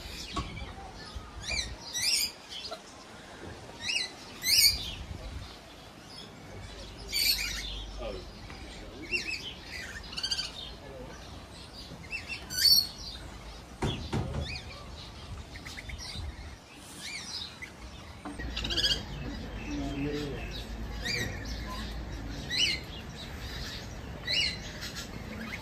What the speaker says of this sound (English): Listen, I hear birds chirping.